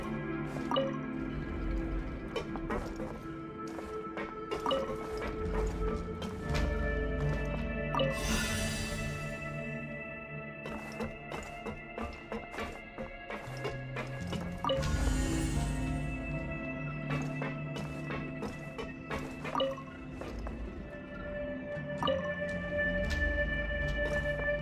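Water rushes in and rises through a flooded chamber in Genshin Impact, with continuous splashing, dripping and gurgling and two louder surges of inflow, under a steady tonal music bed.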